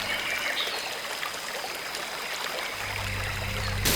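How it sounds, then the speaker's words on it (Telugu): A waterfall roars as a broad, steady rush of water, moderately loud and unbroken, with a low rumble swelling toward the end. "అబ్బా, ఎంత పెద్ద జలపాతం!"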